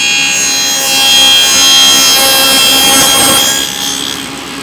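A dado stack on a table saw cuts notches across wooden boards in a workshop, giving a loud, steady, rasping whine of blade against wood that swells and holds for several seconds before easing slightly near the end.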